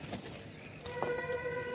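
Pigeons perched on a stand at a farm give soft, low cooing that rises near the end, faint against a quiet outdoor background.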